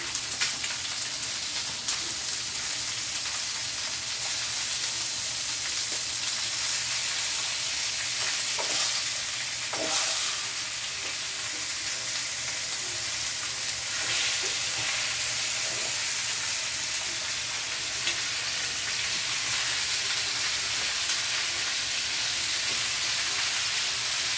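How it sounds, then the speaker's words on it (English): Pork pieces searing in a hot pan for sauerkraut and pork give a steady, dense sizzle that runs on evenly throughout, with a few faint clinks and stirs near the middle and no talking. "Now those will sear."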